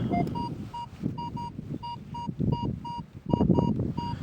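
A metal detector searching a vegetable garden emits short, repeated beeping tones at an uneven rhythm, over low rumbling and rustling noise.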